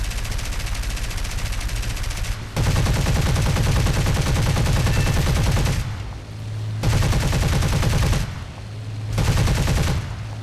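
The 13mm machine guns of a BF 109 G-6 fire in War Thunder in several long, loud, rapid bursts separated by short gaps, over a constant engine drone.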